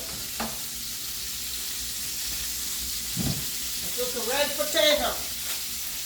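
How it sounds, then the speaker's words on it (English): Chicken breast frying in a pan: a steady, close sizzle and hiss runs throughout, with a few brief scraping and stirring sounds and a voice speaking partway through. "I fry it down for about 4 or 5 minutes each."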